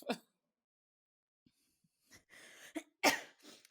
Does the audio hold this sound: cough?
yes